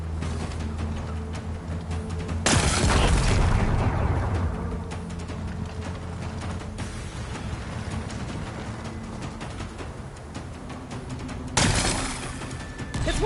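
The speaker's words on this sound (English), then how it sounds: "Gotta blast away some rocks, so I can expose the power cell." Two loud explosive blasts in Horizon Forbidden West break apart rocks, the first followed by a long rumbling, crumbling tail and the second arriving near the end, over a steady low game ambience.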